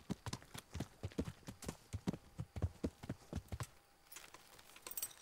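Horse hooves clip-clop at a steady trotting rhythm in the medieval game Kingdom Come on PS4 Pro, close and distinct, then stop abruptly, leaving a quieter stretch with a few faint clicks.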